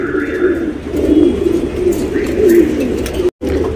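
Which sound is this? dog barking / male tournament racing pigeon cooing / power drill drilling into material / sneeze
male tournament racing pigeon cooing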